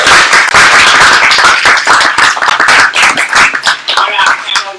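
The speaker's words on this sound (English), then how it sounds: "Give a round of applause" Loud, close clapping from an audience welcoming panelists at a Black History Month panel, dense and sharp with uneven individual claps, plus some voices mixed in throughout.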